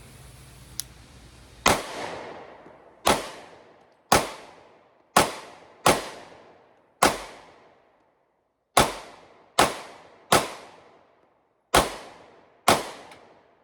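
Twelve sharp, loud gunshots from a Beretta PX4 Storm Subcompact pistol, the first fired double action and the rest single action, spaced irregularly at a moderate pace, each with a short ringing decay and no talk between them.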